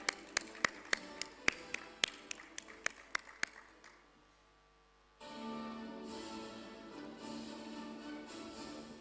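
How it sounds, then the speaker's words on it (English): Applause for a speaker at a plenary session: a steady run of about a dozen crisp, evenly spaced claps, then a brief quiet gap before a dense, murmuring room noise swells up. "A big round of applause for Tina."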